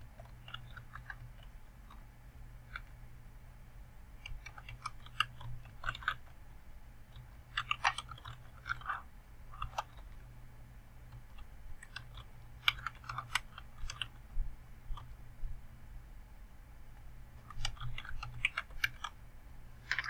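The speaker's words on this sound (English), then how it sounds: "So we'll type all of this." Typing on a computer keyboard while entering document text, with bursts of quick, fairly faint clicks in uneven runs over a steady low hum.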